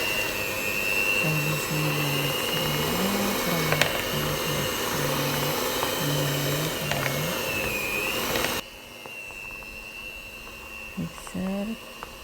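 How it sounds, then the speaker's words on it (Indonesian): Electric mixer kneads potato donut dough in a steady droning whir with a rhythmic pulsing hum, then cuts to a quieter stretch where a voice speaks briefly. "lalu kita mixer kembali sampai adonan tercampur rata dan benar-benar kalis elastis ya Bun."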